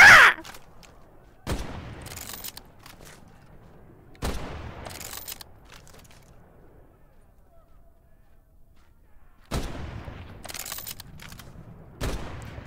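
Gunfire in the video game Medal of Honor: Above and Beyond, a few loud sharp bursts spaced apart with quieter stretches between, under intermittent talk.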